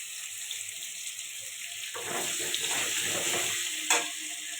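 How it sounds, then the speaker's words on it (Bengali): A quiet hiss, then potatoes with turmeric and salt hit hot oil about halfway through and a steady frying sizzle takes over, with a brief clatter near the end. "এবার আলুগুলো ভেজে নেব একটু হলুদ আর একটু লবণ দিয়ে ভেজে নেব"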